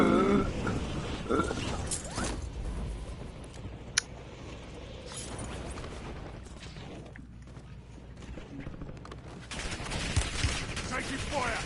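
Bursts of automatic gunfire and sharp shots ring out in the shooter game Warzone, dense at first, then thinning and picking up again, with voices faintly talking underneath.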